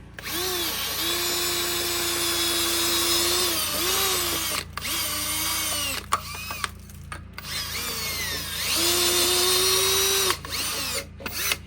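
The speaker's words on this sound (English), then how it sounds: "And you just bottom the drill out on the jig." A power drill guided by a jig whines in long bursts, pitch dipping as it bites into a metal engine block, with short pauses between runs and no talking.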